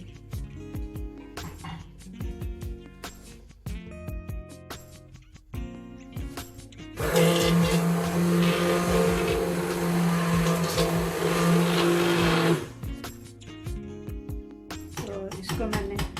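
A hand blender grinds spinach for Punjabi palak saag in a home kitchen, a loud steady whir running for about six seconds in the middle, with kitchen clinks and clatter before and after.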